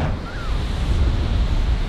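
Ocean waves wash continuously onto a beach, a broad, close roar of surf mixed with wind buffeting the microphone.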